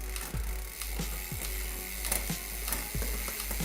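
A TRP TR12 bicycle shifter clicks through its gears while the derailleur is adjusted, giving a series of sharp, evenly spaced ratcheting clicks close up over a low steady hum.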